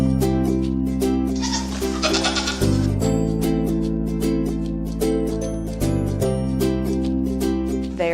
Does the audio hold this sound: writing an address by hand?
no